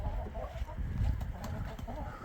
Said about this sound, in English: looks like we got a chicken up there on top.